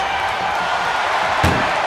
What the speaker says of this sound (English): They slammed the door.